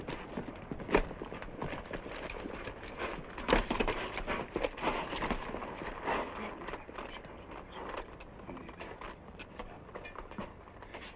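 Hooves clip-clopping in a loose, steady rhythm over a rough, noisy background, moderately loud and continuous, with no talking.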